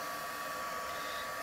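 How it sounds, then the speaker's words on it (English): A worn-out heat gun used for heat embossing blows a steady, even whirring hiss for the whole short stretch, close and unbroken, with no speech over it. "This heat gun is absolutely dying."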